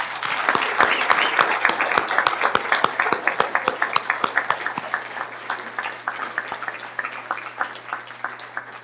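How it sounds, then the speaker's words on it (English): A room applauds officers promoted at a Fort Collins Police Services ceremony: a modest crowd's clapping with distinct, close individual claps, strong at first and gradually thinning over about nine seconds. "could we give a round of applause to all the people who got promoted today?"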